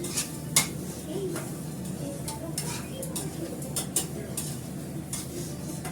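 Carrots and other vegetables fry in ghee for khichuri, a soft steady sizzle under repeated clinks and scrapes of a spoon stirring against the pan.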